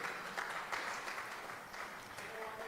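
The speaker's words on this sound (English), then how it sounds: "a round of an applause" Audience applause at an association master class gathering, a steady wash of clapping at moderate level lasting the whole moment, with a few louder claps standing out.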